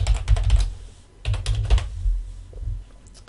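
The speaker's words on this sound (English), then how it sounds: "I'm going to type in the server name." Fingers type a server name on a computer keyboard, producing two close, rapid runs of key clatter separated by a short pause, then a few scattered taps, with no talking.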